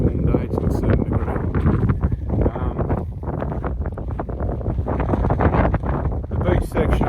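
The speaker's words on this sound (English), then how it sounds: "Could have done without the northerly wind today blowing" A northerly wind gusts across a Port Phillip Bay beach on a warm day, buffeting the microphone with a steady low roar as a person talks over it.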